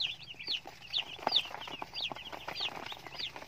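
Broiler chicks give a steady run of short, high peeping and clucking calls, several birds overlapping at close range over a low background murmur, with no talking.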